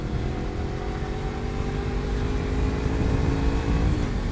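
A 250cc motorcycle engine revs and accelerates steadily, its pitch climbing gradually as it pulls close and loud with no talking.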